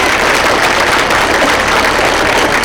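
An audience of parents at a kids' annual day performance applauds loudly and continuously, a dense wash of many hands clapping without pause, with no talk over it.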